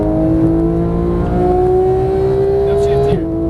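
A Porsche 911 GT3 of the 991 generation accelerating hard on a race track, its engine note climbing steadily and loud from inside the car, then a quick upshift dip near the end.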